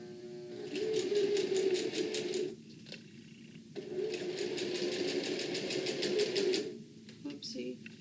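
A sewing machine stitches a bag in two rapid mechanical runs, each a few seconds long with a short pause between them. The whirring rattle is close and loud, with a brief gap at the end.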